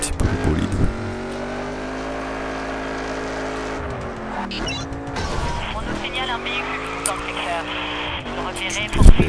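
A race car engine in a driving game drones loudly and continuously, its pitch rising and dipping with gear shifts, with brief tire squeals; someone talks over it throughout.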